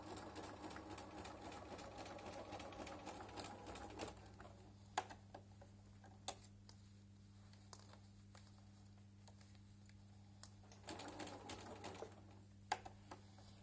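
A sewing machine stitches a braided rug, a faint steady whir with a constant hum and occasional small clicks, running throughout at low volume.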